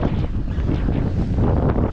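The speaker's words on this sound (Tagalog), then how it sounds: "mahangin dito banda." Gusty wind blasts a microphone at sea near Marinduque, a loud, rumbling low roar that surges and buffets with no voices.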